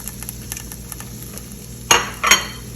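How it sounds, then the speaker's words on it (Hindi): Cubed onion and capsicum go into hot oil in a pan for a light sauté, making a low steady sizzle under two sharp bursts of clatter and rustle as the pieces drop in, close by and with no talk. "जो मैंने प्याज और शिमला मिर्च को क्यूब में काटा था उसको मैं इसमें हल्का सा सौते करूँगी"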